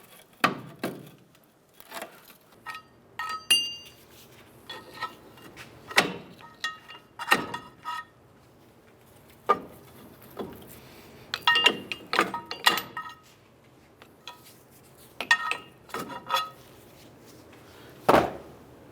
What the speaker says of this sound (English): I'm going to grab a small pry bar behind the backing plate in the rotor, or the drum actually, and I'm just going to try and work this